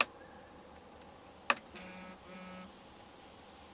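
A BLUETTI AC50S portable power station switching on its 12-volt outputs gives a single sharp click, then a short electronic tone, over a quiet room hum.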